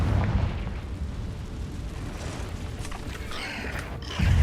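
Fiery blast of the Confringo spell in the game Hogwarts Legacy inside a cave, a deep rumbling burst followed by crackling debris and a second low impact at the close.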